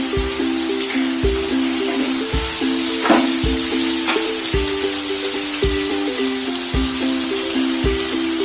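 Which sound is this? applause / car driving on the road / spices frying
spices frying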